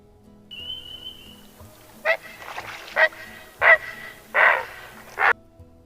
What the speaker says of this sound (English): heron